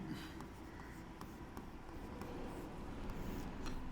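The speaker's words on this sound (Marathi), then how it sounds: "एक मी वाक्य लिहितो." Chalk scratches and taps steadily against a classroom board as a Marathi grammar sentence is written out, a continuous close scraping with faint knocks throughout and no speech.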